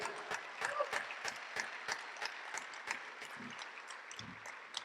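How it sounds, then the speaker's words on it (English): Audience applause at an evening high-school DECA induction ceremony, a fairly quiet burst of scattered hand claps that stays steady for a few seconds before thinning out, with some faint voices underneath. "Can I have a round of applause, please?"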